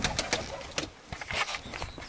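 Pigeons in a loft rustle and flap their wings in short bursts, close by, with faint soft cooing mixed between the flutters over a couple of seconds.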